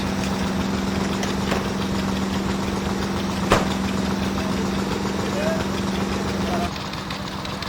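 Old engines run at Claymills Pumping Station inside the A&B engine house, a steady, rhythmic mechanical drone with faint knocking and a few clanks, heard close throughout and easing slightly near the end.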